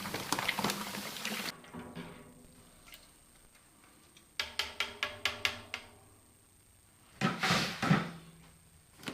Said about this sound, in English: And we begin to pour sugar.